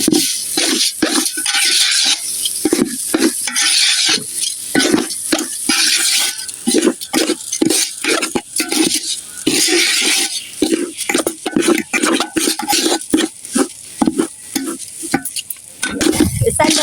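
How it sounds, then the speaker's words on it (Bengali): Raw rice for chicken biryani is fried in oil and stirred hard, making loud, rhythmic scraping and rustling bursts over a continuous sizzle. "চালটা আমি তেলে ভালো করে ভেজে নেবো"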